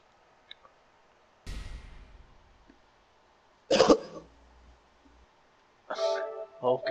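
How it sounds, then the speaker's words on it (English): A man coughs hard in a Mortal Kombat 11 fighting game session, a harsh broadband burst near the start followed by further loud coughing fits, each sudden and close, with quiet gaps between. "He just fucking coughed so hard."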